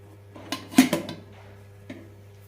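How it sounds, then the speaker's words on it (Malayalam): A metal pressure cooker lid is set down to close the cooker, which holds a stand and a vessel for baking ghee biscuits; one brief, close clatter of metal is followed by a faint second clink. "കുക്കറിൻ്റെ മൂടി വെച്ച് തന്നെ അടയ്ക്കാം"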